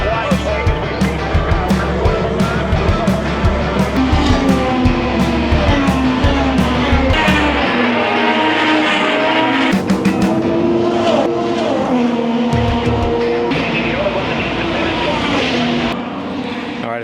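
Loud IndyCar engines roar continuously as cars speed past one after another at a race, with rising and falling engine pitch and some tire noise.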